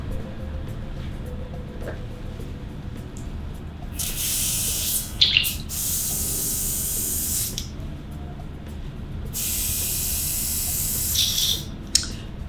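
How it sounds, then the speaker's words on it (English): Two bursts of fine, hissing makeup setting spray from an airbrush, each a few seconds long, over a quiet background with faint ticks and clicks. "So I'm finishing up with my setting spray"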